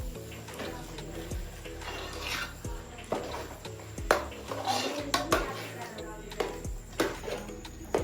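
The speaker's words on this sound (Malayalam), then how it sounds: "നന്നായിട്ട് ഇളക്കി അടിയിൽ പിടിക്കും. അതുകൊണ്ട് നമ്മൾ നന്നായിട്ട് ഇളക്കി കൊടുക്കാം" Orappam batter, a traditional dessert made with thengin koombu (coconut sprout), stirred in a pot, with metal utensils scraping and clinking repeatedly in a steady rhythm, close and fairly loud, while a person talks over it.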